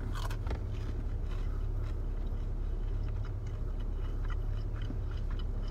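Someone bites into crispy spicy chicken nuggets and chews them in faint, irregular crunches, partly buried under a constant low background hum.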